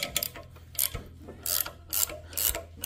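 A metal nut being slowly backed off a valve spring assembly, heard as short, separate ratcheting clicks and scrapes in uneven bursts, close and fairly quiet, with no talking.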